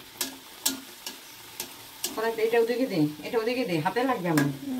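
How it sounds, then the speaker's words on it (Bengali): Luchi frying in hot oil, a steady bubbling sizzle that swells loudly after a few sharp clicks, with voices heard faintly in the background. "মা বেলে বেলে দেবে আর আমি ভাজবো"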